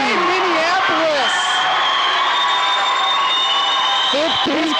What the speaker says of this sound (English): This crowd is loud.